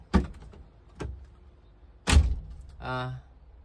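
An Isuzu Panther car door, recently repaired, swings shut with a soft, muted thunk amid a few light knocks and handling sounds, followed by a brief whir like a power window, with a voice speaking briefly in between.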